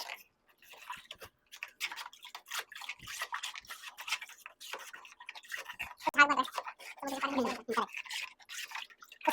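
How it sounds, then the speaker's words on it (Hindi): Salt being stirred round and round into water to dissolve it for a density experiment, giving close, irregular swishing and light clinking taps, with a voice talking over much of it. "गोल गोल पानी तो यहाँ पे आप देख सकते हो गाइस, हम लोग इसको टोटल मिक्स कर रहे हैं"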